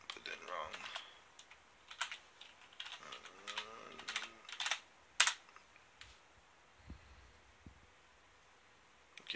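Computer keyboard being typed on up close, a quick run of key clicks in short bursts with brief pauses and a final harder tap, set in a quiet room.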